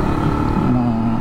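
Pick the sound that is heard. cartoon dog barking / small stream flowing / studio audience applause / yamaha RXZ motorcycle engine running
yamaha RXZ motorcycle engine running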